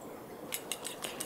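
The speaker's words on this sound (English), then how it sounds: "Whisk an egg in a bowl until smooth." A whisk beating an egg in a bowl, a run of about five quick metallic clinks against the bowl's side, close and fairly quiet, with no talking.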